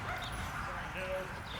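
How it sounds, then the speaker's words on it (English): Small dogs yip and bark faintly in the distance outdoors, mixed with light background noise, while someone talks nearby. "we gotta wait till those little dogs are back inside, because they'll just bark at me the whole time."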